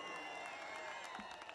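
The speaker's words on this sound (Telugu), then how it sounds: "చప్పట్లు కొట్టండి" Applause and crowd noise from the audience at a movie pre-release event in a large venue, a faint, steady wash of distant clapping and murmuring without clear individual claps.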